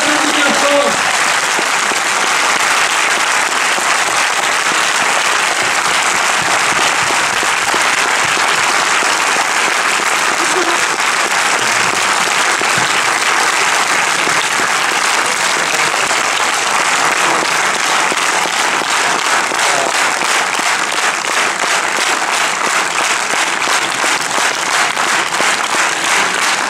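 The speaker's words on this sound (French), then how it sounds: "On vous applaudit bien fort." A theatre audience at a film premiere claps loudly and continuously, a thick unbroken roar of many hands that stays level for the whole stretch.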